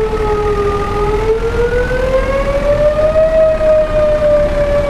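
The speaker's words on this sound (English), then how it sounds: "Jeez, that siren's loud." A loud tornado warning siren in a Roblox storm-chasing game wails steadily on its own, its pitch slowly dipping and then rising again as it sweeps, with no voices present.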